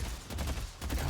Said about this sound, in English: I'm just gonna shoot grenades